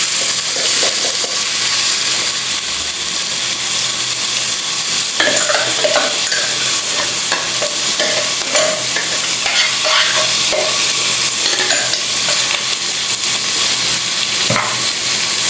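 Goan-style crab bafat masala sizzling in a pan while being stirred, a constant close frying hiss with scattered scraping and clinking from the spoon, no talking.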